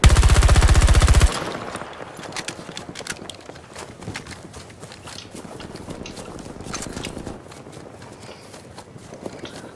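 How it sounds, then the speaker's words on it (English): Gunfire from a first-person shooter match in Battlefield 2042 starts with a loud burst of automatic fire, then continues as rapid, quieter rattling shots and clatter for the rest of the span. "Can't control where I'm shooting. The gun's fighting me."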